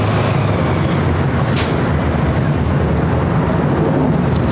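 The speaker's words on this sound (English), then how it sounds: "This is Air Lingus Flight 68 taking off to Dublin on the A330-300." An Aer Lingus Airbus A330-300 jet takes off from LAX bound for Dublin, a loud, steady broadband engine roar holding throughout with no talk.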